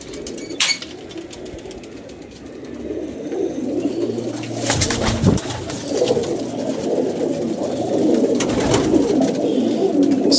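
Pigeons coo in a soft, continuous low murmur around a home loft kept by a pigeon fancier, with occasional brief sharper bird sounds and a few wing-like bursts over a steady background.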